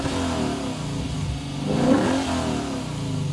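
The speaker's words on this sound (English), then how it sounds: "we do have the quad exhaust tips for some great noises out of that V8" A 2024 Lexus IS 500 F Sport V8 rumbles steadily through quad exhaust tips and swells into a brief rev near the middle before settling back to a throaty idle.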